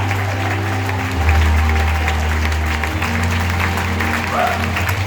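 A worship congregation in Bocaue, Bulacan bursts into loud, sustained applause that fills the room from start to finish, with a steady low hum running underneath.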